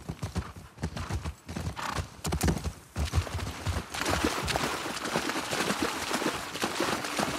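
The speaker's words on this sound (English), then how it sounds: "You're gonna have to leave the horses here." Horses clip-clopping in The Last of Us Part II, hooves striking in a steady stream of close, distinct clops with an occasional soft snort or whinny amid faint ambient game sound.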